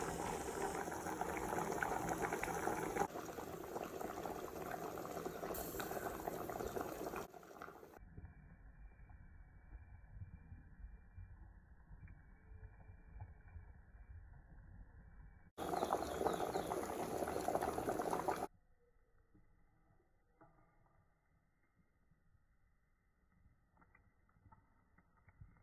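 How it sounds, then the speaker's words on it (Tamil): Sweet potato payasam with crushed cardamom and plums boils in a pot, a steady close bubbling and hissing that alternates between louder and quieter stretches, with no talking. "இப்போ நல்லா பாயாசம் கொதித்து ஓரளவு திக்கான பதத்துக்கு எனக்கு இருக்குது"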